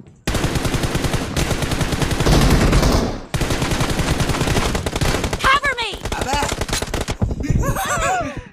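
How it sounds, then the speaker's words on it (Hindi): Sustained automatic M4 rifle fire in the mobile battle royale game BGMI, a loud rapid burst that runs nearly nonstop with a brief pause, while voices talk over the shooting. "ये M4 की आवाज क्यों बदल गई, ऐसी लग रही है मेरे को।"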